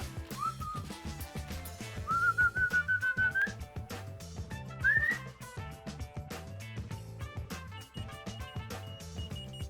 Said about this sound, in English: all I have to do is just to whistle